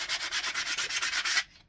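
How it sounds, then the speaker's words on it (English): Sanding a routed plaque made from recycled pine, a steady rhythmic rasp of abrasive strokes, close and loud, running alone for over a second before stopping abruptly. "it takes a matter of seconds to sand it down on something like this."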